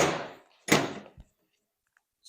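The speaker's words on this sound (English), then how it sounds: "now I'll go ahead and put our door on" A vehicle door is fitted onto its hinges on a Polaris RZR Pro S 4-seat vault enclosure, giving two close, solid thunks a fraction of a second apart, then a short knock and quiet.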